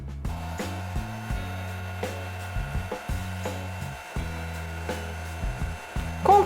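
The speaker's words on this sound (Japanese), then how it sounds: "ドライヤーの風を当てていきます。" A hair dryer blowing air onto resin art, heard as a steady low motor hum whose pitch steps up and down in short, repeated segments, with no one talking.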